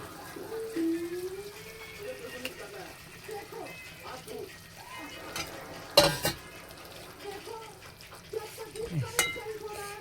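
Small chara pona fish fry and sizzle in a pan while a spatula stirs and scrapes them, with a steady hiss broken by sharp clinks and scrapes and someone talking over the cooking.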